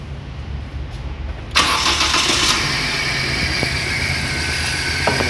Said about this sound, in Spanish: Proseguimos con la prueba de arranque del motor para ver su funcionamiento.